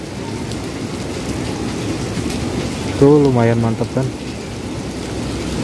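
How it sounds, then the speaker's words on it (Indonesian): Heavy rain at a fishing spot on a southern beach, a steady dense roar of downpour from start to end, with someone briefly speaking partway through over the hiss. "kondisinya lagi hujan banget, hujan deras"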